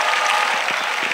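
A church congregation at a prayer gathering applauds in a brief, dense burst of clapping, close and steady with no talking over it.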